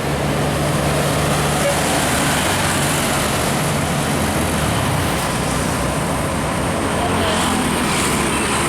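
A tour bus climbs the road toward the Gunung Kidul tourist area in Indonesia, heard as a continuous, loud rumble of engine and road noise that holds steady throughout.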